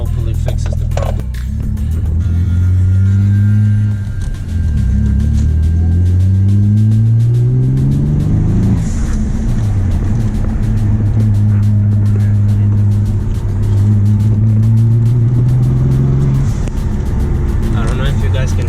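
A Mitsubishi Galant VR4 engine with a misfire labours under full throttle, its loud droning note wavering and stumbling as it surges and falls back, alone and close.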